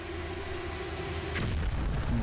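A nuclear weapon detonates in the video game Metro: Last Light, a deep, rumbling boom swelling up midway through and rolling on under a low drone, with no talk.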